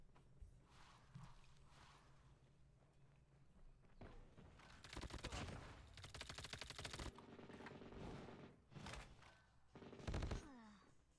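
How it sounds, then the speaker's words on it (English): Rapid bursts of machine gun fire from the mobile shooter game Call of Duty Mobile, arriving in several fast, rattling volleys separated by short gaps, fairly faint overall. "That MG is insanely fast."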